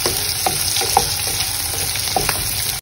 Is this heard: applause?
no